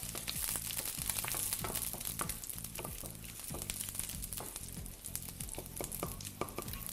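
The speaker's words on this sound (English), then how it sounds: "Nice and sizzling." Food crackles and sizzles steadily in a hot pan, with a constant hiss and frequent small pops, accompanied by a low rhythmic hum underneath.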